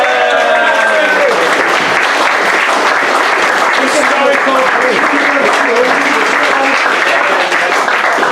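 Loud, packed applause fills a room at an evening gathering for award winners, a continuous wash of clapping with a voice talking over it throughout.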